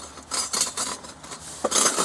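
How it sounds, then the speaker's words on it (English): Metal kitchen tongs clink and scrape in a quick series of light, bright taps while someone cooks toast at a camp stove beside a teardrop trailer in the Catskills, New York. "So the tongs are pretty important."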